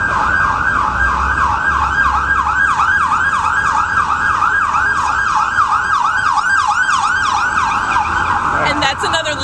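Emergency vehicle sirens pass outside with a loud, fast, repeating wail that cycles steadily for about nine seconds over road noise. A brief, different burst of sound cuts in near the end.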